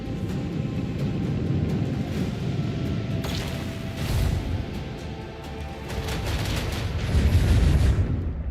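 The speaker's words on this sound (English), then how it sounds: "Can't dodge an explosion." An explosion in Warhammer 40K: Rogue Trader, a heavy rumbling blast that swells and fades among crashing debris and whooshing effects, followed by a second deep swell of rumble toward the end, no talk.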